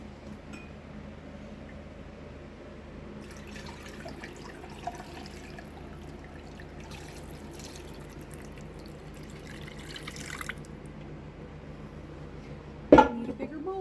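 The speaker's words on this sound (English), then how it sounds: "I'm gonna strain it through the mesh first, get the bigger pieces" Homemade chicken stock is strained through a mesh sieve, giving a stretch of splashing liquid and dripping in a kitchen, then a sharp clink of metal or a dish near the end.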